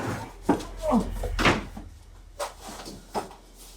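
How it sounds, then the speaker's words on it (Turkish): A door opening or closing inside a house, heard as a few sharp knocks and thumps among people talking. "The door!"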